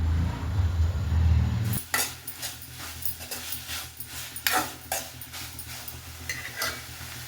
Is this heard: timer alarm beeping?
no